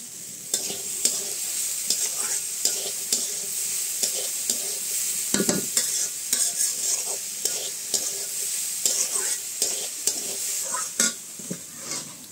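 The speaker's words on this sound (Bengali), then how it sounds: "এই পাতাটা দেওয়ার পরে আমি এটাকে ভালোভাবে নাড়াচাড়া করে তারপরে এটা উঠায় ফেলবো।" A fish-recipe bhaji frying in a pan with coriander leaves, stirred repeatedly so rhythmic scraping and clinks of the utensil sit over a continuous close sizzle.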